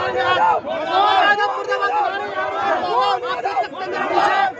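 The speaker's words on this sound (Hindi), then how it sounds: "डॉक्टर मोहन यादव मुर्दाबाद के नारे गुना की सड़क से अब उठते हुए नजर आ रहे हैं" Crowd of protesters on a street in Guna chant slogans against the chief minister, many voices shouting in rhythmic, repeated phrases close by, loud and continuous.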